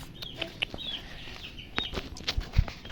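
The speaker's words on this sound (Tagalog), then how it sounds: "Ito ang mga manok natin na alagaan namin." Chickens cluck at a backyard coop with short, scattered calls near and far over a soft outdoor hum, with a couple of louder knocks or thumps toward the end.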